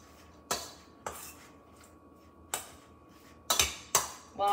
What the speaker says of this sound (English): I'm just gonna stir it up here in my potatoes